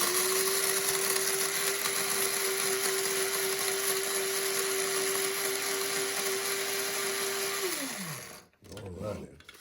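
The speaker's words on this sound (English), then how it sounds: "We're gonna grind it up in the old trusty grinder." An electric coffee grinder buzzes steadily as it grinds coffee beans coarse for Vietnamese coffee, a loud, constant whine running about eight seconds before winding down and stopping, followed by brief handling sounds.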